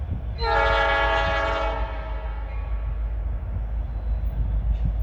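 A Norfolk Southern mixed freight train with two locomotives eases slowly through the Fostoria, Ohio yard at sunset: a loud, sustained horn blast for about two seconds, then a steady low rumble of rolling cars.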